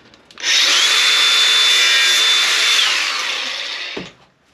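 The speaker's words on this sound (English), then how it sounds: "I don't know why more people don't use an angle grinder to open stuff up." An angle grinder spins up and cuts through a cable tie in one loud, close, steady high whine of about three and a half seconds, then winds down and stops with a light knock.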